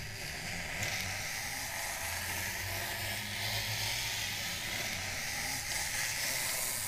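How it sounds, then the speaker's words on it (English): A cutter drawn along the edge of a ski touring skin, slicing the skin material, gives a steady, soft hissing scrape that runs unbroken for several seconds at low volume, with no voices. "pull the cutter over the edge at a slight angle"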